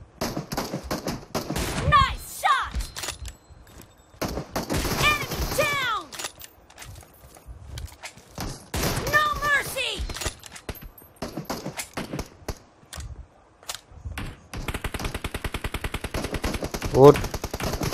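Bursts of rapid automatic gunfire crackle in short volleys in a video game team deathmatch, mixed with voices talking over them in Hindi and scattered single shots throughout.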